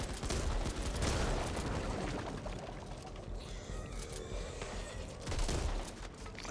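Machine gun fire in the zombie shooter Back 4 Blood: dense, sustained automatic bursts mixed with impacts and mechanical clatter, loud and continuous, rising again toward the end, with no voices.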